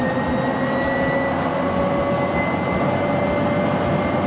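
Traffic streams along a busy road in a steady, dense rumble with a faint tonal whine, loud and continuous from start to finish.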